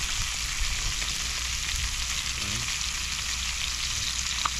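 Tomato, onion and garlic sauté in a hot pan, giving a steady, fairly quiet sizzle and frying hiss with a few faint stirring scrapes, heard alone without any talk.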